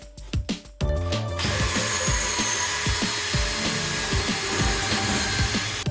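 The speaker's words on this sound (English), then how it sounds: "Drill the hole for the bottom bracket." After a few light taps, a power drill whirs steadily, drilling a hole for a bottom bracket, a continuous buzzing grind close by with a faint rhythmic thump underneath.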